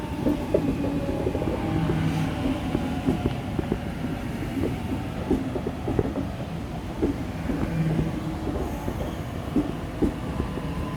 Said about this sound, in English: We have a Waratah approaching platform 2, wants to be service, A40.